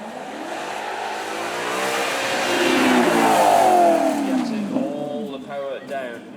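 A 454 brake horsepower V8 supercar revs up at a supercar weekend, engine note climbing to a loud peak and then falling away in rippling gear changes, with a voice talking over it.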